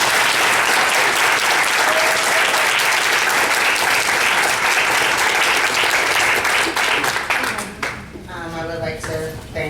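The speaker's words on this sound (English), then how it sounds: "thank everyone for their applause" Audience at a school board of education meeting breaks into broad, steady applause for an honoree; the clapping holds strong, then thins and fades near the end as a voice begins speaking.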